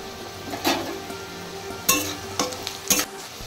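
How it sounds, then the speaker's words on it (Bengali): Onion and whole cumin seeds fry in a pan under a low steady sizzle, with a few sharper stir or utensil scrapes spaced across the short stretch. "পেঁয়াজটা এবার প্রায় ভাজা হয়ে এসছে।"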